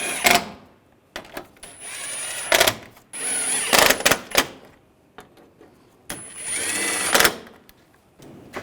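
A powered screwdriver runs down screws on the front bumper cover of a 2009-2010 BMW 535i xDrive, three whirring bursts of a couple of seconds each, separated by short clicks and pauses.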